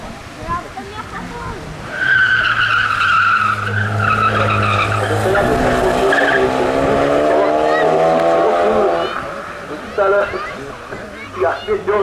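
A BMW race car at a hillclimb skids its tires with a loud, rising squeal and engine whine lasting several seconds, while a commentator talks over it.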